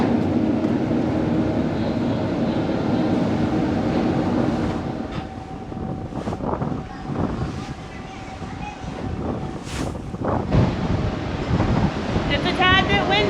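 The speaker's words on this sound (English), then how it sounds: "It's a tad bit windy." Strong wind buffets the open deck of a ferry bound for Ocracoke Island in the Outer Banks, a constant roaring rush against the microphone with a few brief thumps and rattles, and no clear talk.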